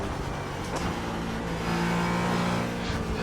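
GT4 race car engine in the iRacing sim, droning steadily at high revs with a brief surge and a missed upshift leaving the motor buzzing without a gear change; no talk.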